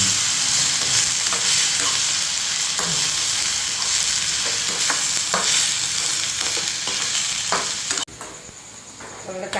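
Tomato and turkey berries sautéing in a pan for a Kerala curry, loud continuous sizzling with repeated stirring scrapes close by, dropping to a quieter hiss for the last second and a half; no speech.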